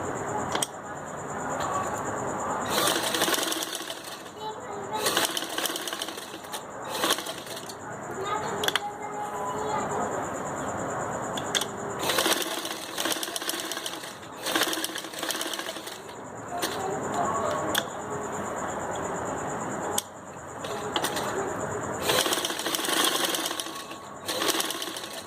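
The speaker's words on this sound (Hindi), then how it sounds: "अब हम इस पे सिलाई लगा के दिखाते हैं आपको" A sewing machine runs a single line of stitching through gota trim glued onto fabric for a turban, whirring in repeated short bursts with pauses between them, while a person talks throughout.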